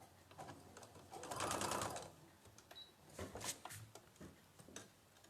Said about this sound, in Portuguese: Vamos lá para a máquina de costura.